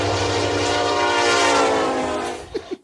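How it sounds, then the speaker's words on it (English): A train effect added during a podcast: a loud, steady rumble with a sustained horn-like tone fills nearly three seconds, then cuts off into a few brief bursts at the end, with no talk over it. "I can add a little train."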